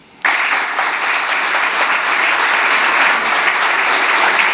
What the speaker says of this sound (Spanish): para quien os pido un aplauso